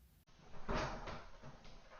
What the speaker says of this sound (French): Minou, ouvre la porte, on commence notre vidéo.